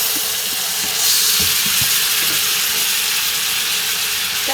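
A burger cooks on a stovetop, giving off a loud, even hiss of sizzling fat and steam that holds steady throughout, with faint low knocks underneath and no voices.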